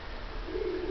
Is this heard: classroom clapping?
no